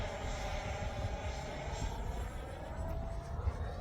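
A Freewing Avanti S 80mm V2 radio-controlled electric ducted-fan jet flying overhead, a steady whooshing whine that holds fairly level throughout at moderate distance.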